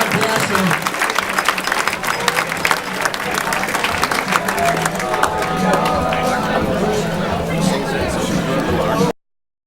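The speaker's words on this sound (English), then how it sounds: "How about one more huge round of applause for our friends?" Loud applause from wedding guests at a New Year's Eve reception, with sharp individual claps in the near crowd and excited chatter mixed throughout before it cuts off abruptly near the end.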